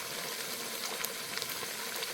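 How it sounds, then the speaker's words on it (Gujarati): Cut, washed potatoes hitting hot tempering oil with onion in a Kathiyawadi kitchen, giving a steady, fairly quiet crackling sizzle with brief pops throughout, no talk. "જે બટેટા કાપીને રાખ્યા છે ને બરોબર ધોઈ અને પછી આ વઘારમાં આપણે નાખી દઈશું"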